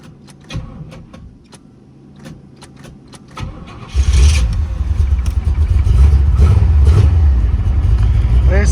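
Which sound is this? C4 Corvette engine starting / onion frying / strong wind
C4 Corvette engine starting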